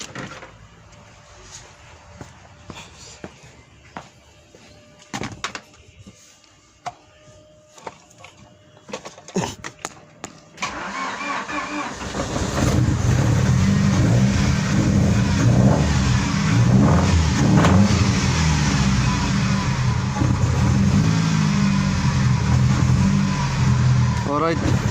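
An Opel Kadett car engine cranks and catches around the middle, then settles into a loud, sustained rev that runs to the end, following a stretch of quieter clatter and handling noises near the car.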